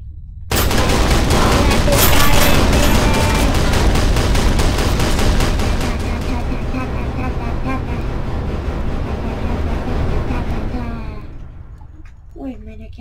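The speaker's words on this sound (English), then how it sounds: "Oh no, it's a machine gun." Dense, continuous automatic gunfire from a machine gun in the People Playground sandbox game, loud and sustained for about ten seconds before trailing off, with a voice talking over parts of it.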